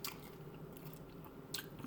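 Crisp bites into crunchy homestyle taco shells, two sharp close crunches about a second and a half apart over quiet chewing.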